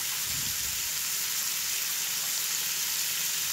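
Mango chutney is stirred in a hot pan, giving a steady, continuous sizzle with a faint hiss throughout and no voices.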